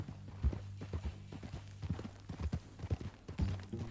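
Rhythmic clip-clop of horse hooves at a steady walking pace in the video game Red Dead Redemption 2, fairly close, with a low background hum and no talking.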